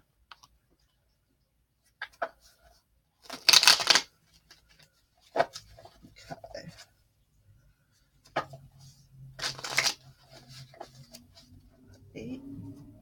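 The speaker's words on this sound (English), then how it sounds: "Almost done shuffling" Tarot cards being shuffled in the hands, with two distinct riffling bursts separated by softer taps and clicks, close and fairly quiet against a silent background.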